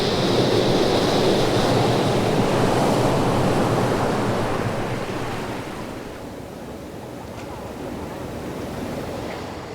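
Ocean waves wash steadily around a moored fishing boat, a continuous broadband surf roar that is loud at first and eases slightly partway through, with wind buffeting the microphone and no speech.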